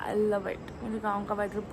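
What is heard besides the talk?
No everyday noise stands out behind the speech.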